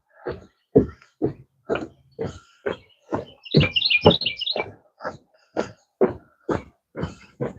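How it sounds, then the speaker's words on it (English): Small birds chirp outdoors in the morning with short, sharp, evenly spaced calls, one brief warbling trill in the middle, fairly close and clear with no talking. "Birds are chirping this morning."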